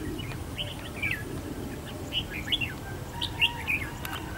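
Red-whiskered bulbuls give short, bright chirping calls in scattered bursts over a low outdoor background rumble, several calls fairly close with brief pauses between.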